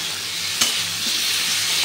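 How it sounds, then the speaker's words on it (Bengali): Ridge gourd, potato, tomato and green chilli are stir-fried in a pan, with a close, steady sizzle, a sharp scrape of the spatula and a few softer stirring strokes. "তো টমেটো আর কাঁচা লঙ্কাটা দিয়ে ঝিঙে আলুর সাথে আরও একটু ভালোভাবে মিশিয়ে নিচ্ছি।"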